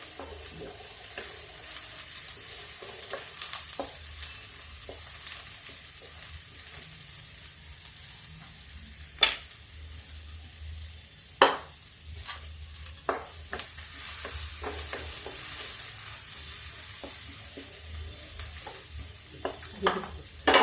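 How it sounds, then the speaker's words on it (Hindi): Green chili, ginger and garlic fry in a pan, giving a soft, steady sizzle broken by scattered sharp clicks and scrapes of stirring, close by and fairly quiet, with no talking. "अब मैं इसको थोड़ा फ्राई करती हूँ, ज्यादा नहीं, थोड़ा सा।"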